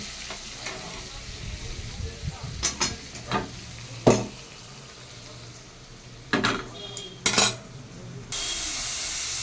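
Vegetable chorchori is stirred in a pan, with scattered spoon scrapes and knocks against the metal over a low sizzle, ending in a sudden broad hiss.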